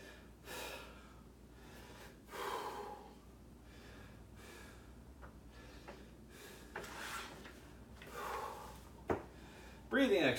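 Deep, deliberate breaths during a breathing exercise, several slow inhales and exhales spaced a couple of seconds apart, close and fairly soft, with a small knock near the end.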